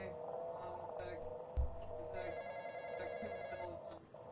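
An old-style telephone rings steadily in the Roblox game The Intruder, its tone buzzing under a continuous backdrop of gameplay noise, with a single dull thump partway through.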